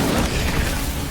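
An Incendio fire spell cast in Hogwarts Legacy, a short, loud, roaring whoosh of flame that is dense and sustained for about a second, with no talking.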